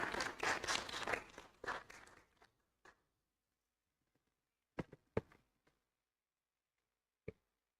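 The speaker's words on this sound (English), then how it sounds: "It's a round of applause for our speakers." Applause from a conference hall audience for the speakers, a brief burst of clapping that fades within about two seconds, followed by a few isolated claps and knocks in near silence.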